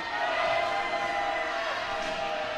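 Creek Crazies student section cheering at a high school basketball game between Durham Riverside and MCHS during a free throw, a steady, dense roar of crowd noise filling the gym throughout.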